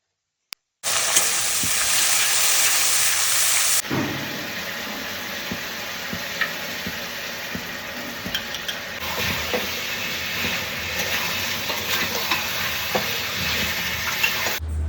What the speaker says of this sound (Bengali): তেলতে বেশি ভাজবো না, হালকা ভাজবো।